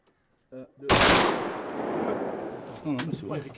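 A single loud, close shotgun blast rings out during a wood pigeon shoot in south-west France and decays over a couple of seconds, with brief voices just before and after it.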